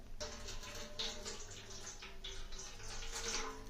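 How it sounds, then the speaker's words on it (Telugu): Water is poured from a glass over jackfruit seeds set for roasting, a continuous soft splashing trickle heard close and alone throughout. "ఇలా నీళ్లు పోయాలి"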